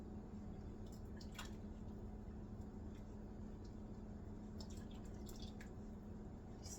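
Wonton chicken soup is ladled from a pot, with soft liquid pours, drips and splashes that stay faint and close in a quiet kitchen.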